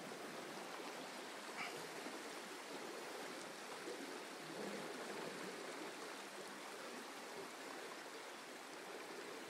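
Flooded small Pēterupe stream rushing steadily and loudly close by, a continuous broadband roar of water with no voices over it.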